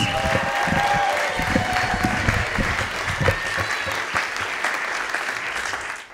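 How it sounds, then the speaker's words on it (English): An audience at a teen poetry slam applauds loudly and steadily, with scattered cheers and whoops mixed into the dense clapping, fading slightly at the end. "please make some noise for Miss Antonia Harold"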